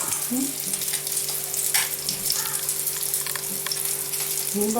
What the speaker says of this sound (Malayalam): മീൻ വറുത്തുകൊണ്ടിരിക്കുക